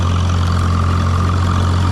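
A J.I. Case 730 tractor pulls a Ford disc slowly in third gear across a packed vegetable patch behind a greenhouse, its heavy diesel engine a loud, steady low rumble close by.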